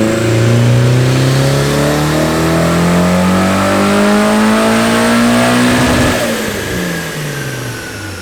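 A turbocharged Nissan 240SX on a dyno at about 8 PSI of boost. The engine climbs in a loud, steady rising rev, then drops off sharply near the end and winds down.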